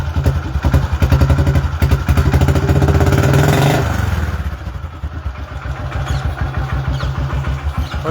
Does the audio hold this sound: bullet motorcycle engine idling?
yes